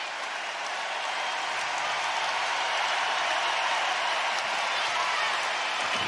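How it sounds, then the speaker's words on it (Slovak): A sold-out crowd at Steel Arena gives a standing ovation in the closing seconds of a Košice–Michalovce hockey semifinal, a steady dense wash of applause and cheering that fills the whole stretch without pause. "Potlesk postojačky v Steel Arene"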